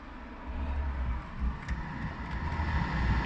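A BMW E46 climate control blower fan runs with a steady, broad whoosh of moving air inside the car cabin, holding a constant level with slight fluctuations and nothing else over it.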